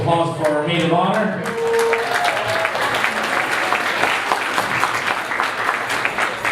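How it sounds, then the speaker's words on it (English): Wedding reception guests break into a round of applause for the maid of honor, a steady wash of clapping from a crowd filling the room after a short burst of speech at the start. "A nice round of applause for our maid of honor."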